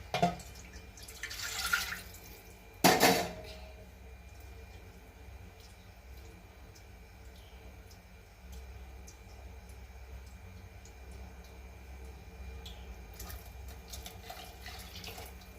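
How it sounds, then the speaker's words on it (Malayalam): Water is poured into kadala curry made with potatoes, carrot and coconut paste, heard as a couple of short splashing bursts early on, followed by faint, quiet kitchen background. "കുറച്ചുകൂടി വെള്ളം ചേർക്കുന്നുണ്ട്."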